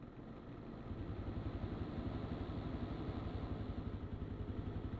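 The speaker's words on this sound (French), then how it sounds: "ils font les fiers avec leur moto" Motorcycle engines in a modded Minecraft GTA-style roleplay game, a steady rough mid-pitched idle that grows louder after the first second and then holds a continuous throbbing drone, with no talking.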